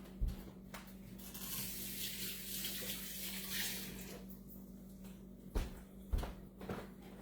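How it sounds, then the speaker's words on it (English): Water running from a kitchen tap to wet rice paper for sushi, a quiet steady hiss of flow with a few soft knocks and clicks near the end. "I think I just need to put a little bit of water on it to make it seal."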